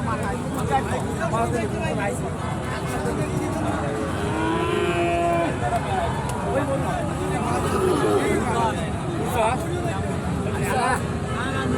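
Cattle, including small cattle, mooing amid a busy crowd, with constant chatter and bargaining voices filling the background at a lively cattle market near the India–Bangladesh border.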